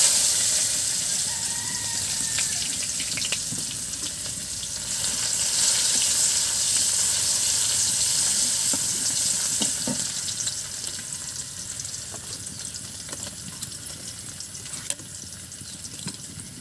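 Chopped onion and whole cumin seeds frying in a pan, a steady sizzling hiss with soft stirring scrapes throughout, fairly close and even in level with no talk.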